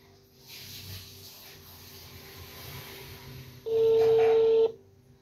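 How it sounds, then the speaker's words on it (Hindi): An outgoing mobile phone call rings through: a single steady electronic ringback burst lasting about a second, loud and close, after a low hum of room background. "ये बेल जा रही है"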